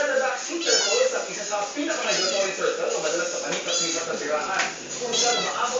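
A cat meows repeatedly, in short, close calls that come at intervals under a person speaking Filipino.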